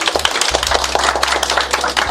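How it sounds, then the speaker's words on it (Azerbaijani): A studio audience applauds in loud, dense, close clapping that runs steadily for about two seconds, with a low hum beneath it. "zəhmət olmasa alqışlayaq onu"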